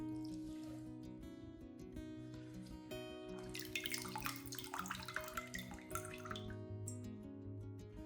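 Water is poured over potted orchids, a soft trickling and splashing that swells in the middle and then eases, heard quietly beneath steady background music.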